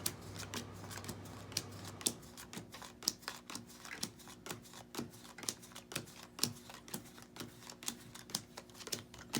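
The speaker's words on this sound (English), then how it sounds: "I'm going to deal the deck into 3 piles. Face up." A deck of playing cards is dealt face up into three piles, each card landing with a crisp snap in a steady, even rhythm, close and clear with no talking.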